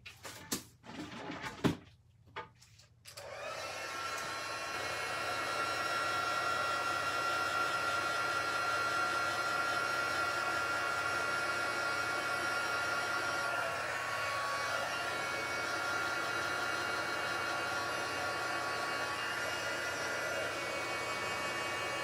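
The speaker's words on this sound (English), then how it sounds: "I'm going to use my heat tool real quickly and let that dry" A handheld heat tool blows steadily at close range to dry a thin layer of liquid glue on patterned paper for a card, a continuous whooshing hum after a few brief knocks at the start.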